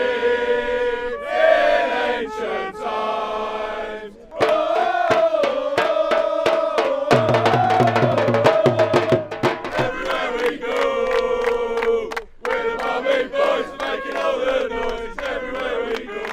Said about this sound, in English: To my right, the Barmy Army. To my left, the Bharat Army. They're ready for the big chant-off.